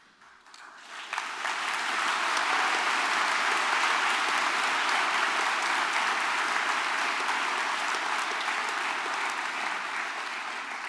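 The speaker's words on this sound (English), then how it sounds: "please join us in giving all our new graduates a final round of applause" Sustained applause from a large audience at a university graduation ceremony, swelling quickly into dense, even clapping that holds steady for about ten seconds with no talking over it.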